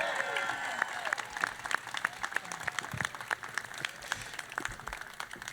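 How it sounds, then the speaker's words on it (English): A crowd gives an outdoor round of applause at a mayor's tree lighting ceremony, scattered distinct claps heard fairly faint and from a distance. "Give him a loud round of applause"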